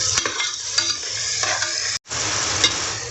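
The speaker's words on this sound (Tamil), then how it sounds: "இந்த தக்காளி நல்லா வணங்கணும்" Tomatoes and onions sautéing for a vegetable biryani give off a close, loud sizzle broken by scraping stirs and light utensil clinks, with a brief drop to silence partway through.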